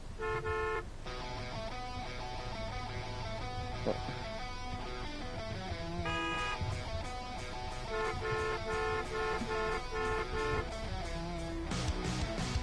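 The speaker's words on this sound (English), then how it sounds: "don't honk over me, I'm gonna be very upset" Car horns honk repeatedly in the Taxi Life driving game, sounding as overlapping tones over a steady backdrop of game music and traffic noise, with no speech.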